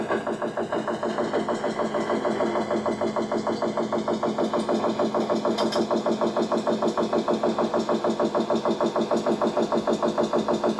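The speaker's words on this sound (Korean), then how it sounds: "뭔가 지금 기계 소리가 들려가고 있죠?" Machine running with a steady rapid pulsing mechanical drone, constant and moderately loud throughout, no voices.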